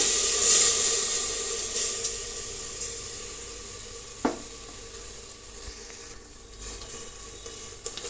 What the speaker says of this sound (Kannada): ನೋಡಿ ಒಗ್ಗರಣೆ ಈ ರೀತಿ ಹಾಕಬೇಕು ಈಗ ನಾವು ಮಿಕ್ಸ್ ಮಾಡಿಕೊಂಡಂತಹ ಮಸಾಲೆನ ಸೇರಿಸ್ಬಿಡೋಣ